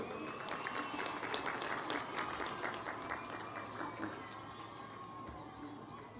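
Crowd applause and ululation at an outdoor Kenyan public event welcoming President William Ruto, a steady wash of clapping and trilling voices at a moderate distance, fading slightly toward the end.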